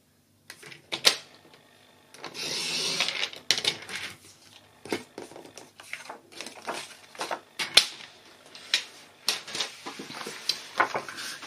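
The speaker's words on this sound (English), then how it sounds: "here I'm going to cut off a 1 inch strip" A strip one inch wide is cut from card stock with a paper trimmer while a greeting card is being made, giving a run of close, crisp clicks, a sliding rasp and sharp snaps in an irregular rhythm.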